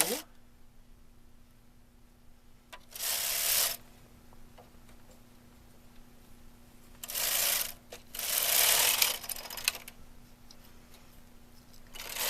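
A knitting machine working rows in a quiet room, its carriage passing in bursts of rapid clattering rasps separated by near-silent pauses, close by.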